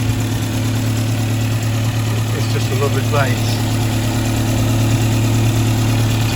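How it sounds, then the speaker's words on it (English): A 1960 Sunbeam Rapier Mk 3 with a 1500cc twin-carburettor engine and alloy cylinder head idles steadily close by, a constant low hum with an even tick, while a person speaks briefly over it. "Ticking over quite nicely"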